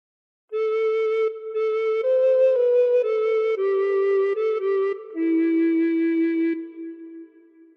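A recorder plays a slow phrase of Silent Night alone, clear sustained notes moving step by step in a gentle rhythm, close and steady in loudness, fading on the last held note.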